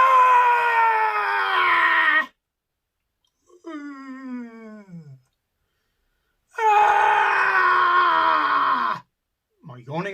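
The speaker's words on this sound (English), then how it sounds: "Speaking about yawns makes me yawn." A person yawning loudly and close, a drawn-out groaning yawn, a shorter falling one and another long one, with a brief start of a fourth, and no other talk in between.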